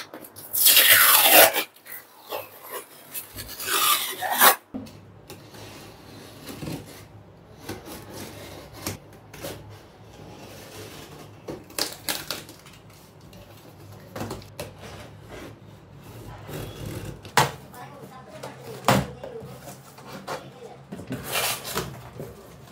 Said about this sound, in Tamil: இப்போ எப்பவும் போல இந்த MIDI-யோட சவுண்ட் பார் அன்பாக்சிங்ல இருந்து ஸ்டார்ட் பண்ணுவோம்.